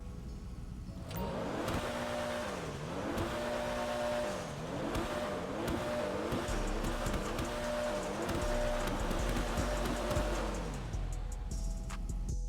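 A Comet Retro Custom car engine in GTA Online revs repeatedly, synthetic, pitch climbing and dropping in a rhythmic pattern over a steady engine drone, loud and close.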